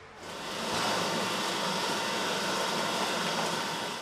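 Large chicken plucking machines run in a poultry shop, a steady loud broadband whir that swells in at the start and holds evenly throughout, with no voices.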